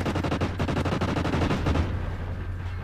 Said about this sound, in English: I get sniped by the most annoying sniper on the game, the Lynx